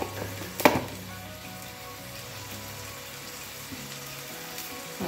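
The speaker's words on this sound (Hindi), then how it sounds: "1 टेबल स्पून जो है इसमें जीरा डालूँगी, जीरा भी डालती हूँ मैं ये" Cumin seeds sizzle in hot oil with a continuous soft crackling hiss, after a brief loud clatter near the start as the seeds go into the pan.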